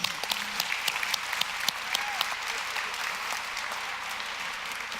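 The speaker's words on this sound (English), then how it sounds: "Let's go ahead and give our Board of Education one more round of applause." Audience applause at a community education gathering: a steady, full round of clapping from a large crowd, with dense overlapping claps throughout and a few sharper individual claps near the start.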